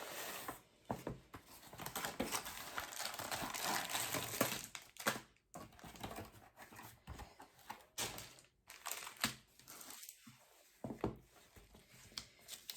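Close, quiet rustling and crinkling of paper in irregular bursts with brief pauses during an unboxing, as wrapping is handled and unfolded. No one speaks.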